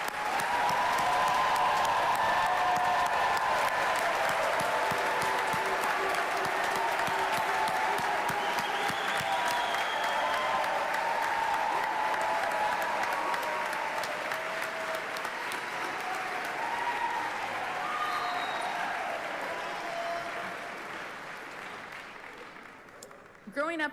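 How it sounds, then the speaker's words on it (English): Sustained applause from a large audience at a 2024 high school commencement ceremony for the graduates, dense and steady for about twenty seconds before tapering off near the end. "we have one more round of applause for our graduates?"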